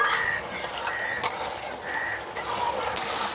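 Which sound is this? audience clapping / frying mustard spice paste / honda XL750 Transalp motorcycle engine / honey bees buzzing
frying mustard spice paste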